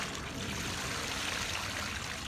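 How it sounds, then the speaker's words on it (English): A short, steady rush of water pouring and splashing into a container, fairly quiet and continuous. "Fill this water up, Jackson."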